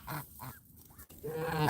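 Ducklings let out a few short, high peeping calls at close range, with soft rustling in between.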